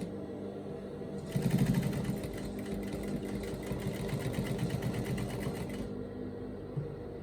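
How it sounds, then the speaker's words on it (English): A sewing machine stitches a shirt placket with a close, rapid mechanical whir and needle chatter. It starts after a second, runs steadily for about five seconds and then stops, leaving quiet room tone with faint handling. "So you want to continue sewing until you get to the downside of this placket."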